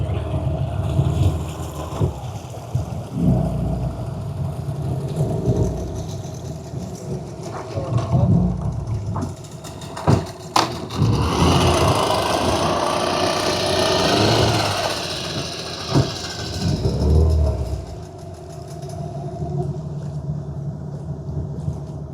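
A motor boat moves through mangrove trees on the Mathuganga River, its engine droning steadily and loudly, with wind and rubbing sounds and no talk.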